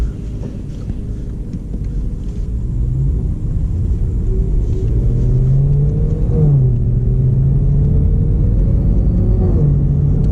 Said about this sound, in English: Today I'll be reviewing my own car, which is a 2008 BMW E92 M3 on a canyon road.